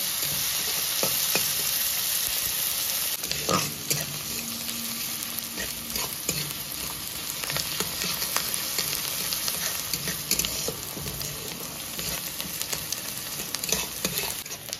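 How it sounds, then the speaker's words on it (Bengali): Onions fry in oil for a mutton keema tadka, a continuous close sizzle and crackle with repeated spatula scrapes and stirring clinks throughout. No voices. "পেঁয়াজটাকে আগে প্রথমে ভালো করে ভাজা ভাজা করে নেব।"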